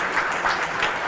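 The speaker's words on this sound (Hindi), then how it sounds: "तालियों से इनका स्वागत करें।" A studio audience at a television news interview claps steadily to welcome India's foreign minister S. Jaishankar, a brief dense burst of applause with no pause in it.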